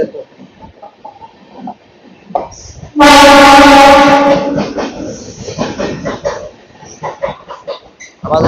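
A passing Eastern Railway local train near Howrah in Kolkata, heard as a sudden loud horn blast followed by rumbling and clatter of the train alongside, with a voice speaking over parts of it.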